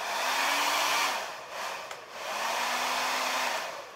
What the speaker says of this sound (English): So I'm gonna turn this blow dryer on.